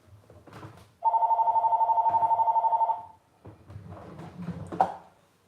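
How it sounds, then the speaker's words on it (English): A home landline telephone rings in a quick trilling burst of about two seconds, loud and close, between stretches of a person talking. "House phone ringing."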